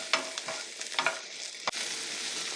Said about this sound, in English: We'll saute the onions until they are nice and soft.